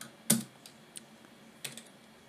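A few keystrokes on a computer keyboard while entering a Linux shell command: one sharp burst of clicks near the start, a lone tap, then a second cluster of keypresses, close and fairly quiet with no talking.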